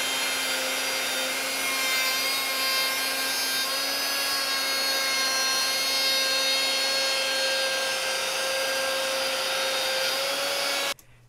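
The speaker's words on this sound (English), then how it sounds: "when this router bit dips down and cuts, it's going to be referencing the side of the plywood" A router bit cuts through plywood in one steady, continuous pass, a loud high-pitched whine with a stable motor tone that runs for about eleven seconds and stops abruptly at the end.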